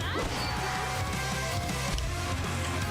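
A sharp, heavy impact crash with a bright metallic burst from a Hogeki counter hit in a Sengoku Basara spinoff fighting game, dense and loud over a busy electronic game backdrop.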